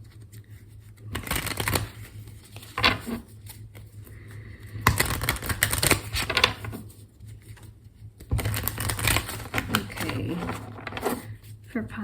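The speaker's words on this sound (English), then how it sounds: "I'm just gonna shuffle real quick, so in case you are sensitive to the sound, it might be a little bit loud" A deck of tarot cards shuffled in three bursts of riffling, fairly loud and close, with brief quiet gaps between and a short spoken word.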